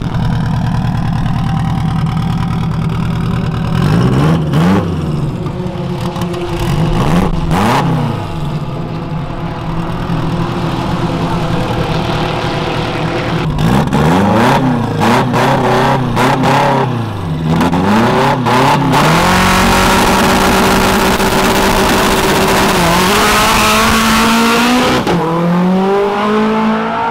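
A remapped VW up! TSI with an aftermarket exhaust and filter revs hard through repeated power pulls, the engine pitch sweeping up and down between loud blips and idle, close and without talk.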